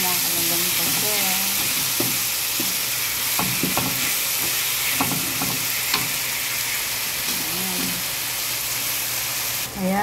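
Garlic, onion and tomatoes sautéing in a pan for pork binagoongan, a steady loud sizzle with scraping stirs, while a voice talks now and then underneath.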